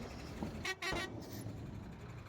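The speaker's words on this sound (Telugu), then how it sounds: "మా మాయ హార్న్ కొట్టేస్తున్నాడు" A truck horn gives two short honks close by at night, over a steady low rumble of traffic.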